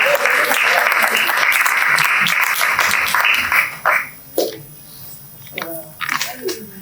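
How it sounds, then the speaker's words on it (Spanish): Audience applause at a tribute event celebrating 40 years of the Spanish magazine El Viejo Topo, dense and loud for about four seconds, then breaking off into scattered claps as a voice begins speaking. "si les aplaudimos a lo mejor se anima"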